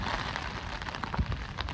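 Steady rain patters on a surface nearby, a continuous hiss dotted with individual drops and a few heavier splats.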